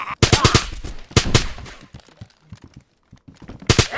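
Gunfire in the survival game DayZ: rapid bursts of loud, close shots in quick clusters, then scattered quieter reports, and another sharp burst at the very end.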